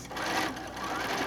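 A sewing machine runs steadily, stitching along a marked line on fat-quarter quilt fabric with a quarter-inch foot, a close, loud, continuous mechanical whir with no talking.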